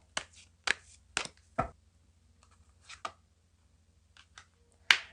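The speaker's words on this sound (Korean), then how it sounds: "이쯤에서 여러분에게 드릴 수 있는 조언 카드 한 장을 뽑아 볼게요" A tarot card drawn from a deck during a reading: a run of sharp card snaps, slides and taps, some crisp and some soft, in an uneven rhythm over near silence.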